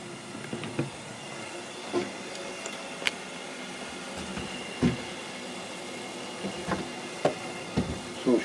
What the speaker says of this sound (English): So she's got a nice rolling boil now.